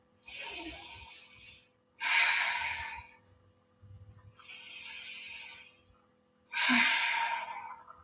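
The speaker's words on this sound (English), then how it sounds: "3 deep breaths." Four slow, deep breaths during a yoga flow, each long airy inhale or exhale rising and falling, close to the microphone and fairly loud, with no talk.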